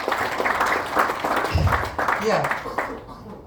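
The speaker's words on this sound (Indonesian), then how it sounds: "Tepuk tangan untuk kita semua Bapak Ibu" Applause from an audience of teachers at a Sunday-night closing ceremony. A short burst of clapping runs under a voice and dies away quickly.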